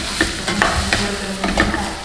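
Indian food with onions stirred in a hot frying pan, close sizzling under repeated scraping strokes of a utensil at a brisk, uneven rhythm, no speech.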